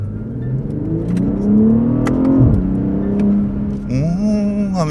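A BMW 840i Gran Coupe's engine hums and revs on the road, the pitch rising and dipping through gear changes before climbing again, loud and close with no talk.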